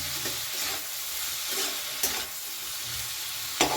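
Fish pieces, spices and chopped tomato sizzle in a pan while being stirred, a constant hiss with occasional scraping strokes and a couple of sharp spatula taps, close up and without talk.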